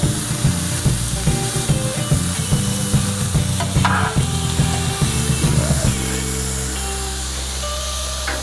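Smash burgers and onions sizzle loudly and steadily on a Solo Steelfire 30 griddle, with light scraping and tapping over the constant fry and no talk.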